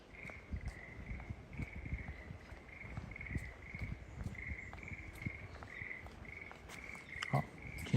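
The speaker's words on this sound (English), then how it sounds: "Oh, can you hear the frogs?" Frogs call in a green ravine along a spring walk in Tokyo, a steady, evenly pulsed trilling chorus from a short distance, with faint rustling footsteps underneath and no talking.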